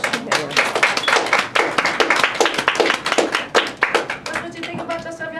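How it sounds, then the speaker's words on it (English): An audience clapping in a dense, rapid burst of hand claps that fades toward the end as a voice begins speaking. "y'all need to give yourself a hand clap first"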